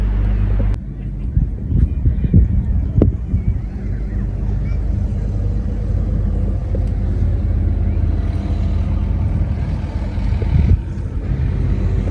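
Cars driving across the wide sand beach on Fanø island in southern Denmark, a steady low rumble of engines, continuous for the whole stretch and mixed with wind buffeting the microphone.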